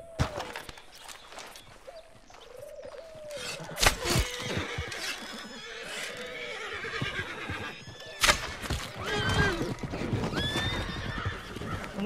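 Horses in the video game Red Dead Redemption 2 whinny loudly several times amid clip-clopping hooves and scattered thuds, with a few brief bursts of other noise in between.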